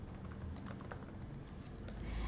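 Quiet keyboard typing while entering text in Photoshop, a soft, steady patter of key clicks over low background hum.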